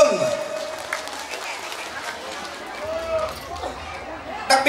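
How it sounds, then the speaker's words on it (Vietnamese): A crowd at a traditional village festival at a communal house applauds, a spread-out patter of clapping hands under crowd noise and voices, rising in a brief louder burst at the end. "Đề nghị chúng ta đổ một tràng pháo tay chào mừng."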